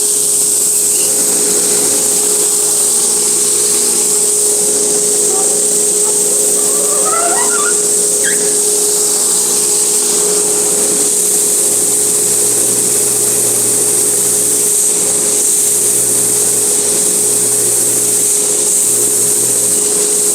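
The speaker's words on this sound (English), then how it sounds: "let's get it cranked up again, and we'll get rid of the 60 grit scratches" A power sander runs loudly and continuously while 60 grit abrasive works the radius of a guitar fretboard, giving a steady high whine over a constant motor drone with no breaks and no speech.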